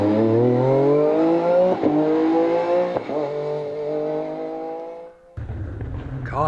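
MG Metro 6R4 rally car on a wet Jersey Rally stage, its engine loud and close, revving hard through several gear changes before a sharp cut to a second burst of engine noise.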